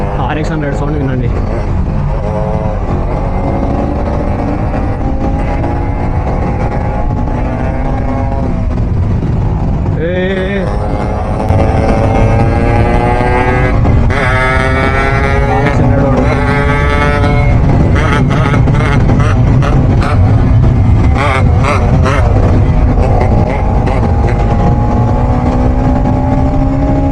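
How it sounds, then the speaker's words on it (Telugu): A Yamaha RX100 two-stroke motorcycle is ridden at speed on a road near Gandhikota, with its engine note droning loud and close over rushing wind, climbing in pitch through repeated shifts and revs, while a rider talks over it. "RX 100 సౌండ్ వినండి."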